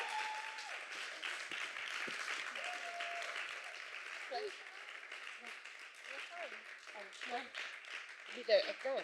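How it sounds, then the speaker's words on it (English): An audience applauds a panel at a music event, a steady wash of clapping running throughout, with a few voices and whoops rising near the end. "Could I please have a massive round of applause for these ladies here?"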